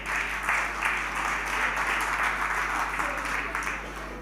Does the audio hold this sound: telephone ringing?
no